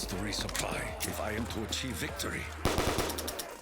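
Sharp, spaced pistol shots in a Call of Duty custom zombies map crack out under steady talking, with a louder cluster of shots near the end.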